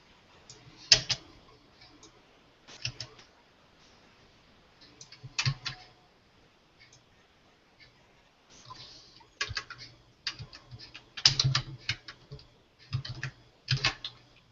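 A computer keyboard is typed on in irregular bursts of quick, close clicking, separated by short quiet pauses.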